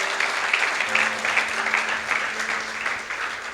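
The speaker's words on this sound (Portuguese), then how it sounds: "Vamos bater palmas pela vida do homem de Deus." A church congregation at a family worship service applauds together, a dense, steady wash of clapping hands that fills the room for a few seconds, with faint voices mixed underneath.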